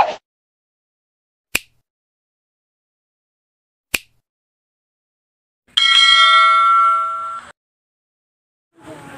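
A notification bell sound effect plays in a cooking vlog: a few sharp isolated ticks, then a loud bright ringing chime lasting over a second, followed by silence and a faint noise at the end.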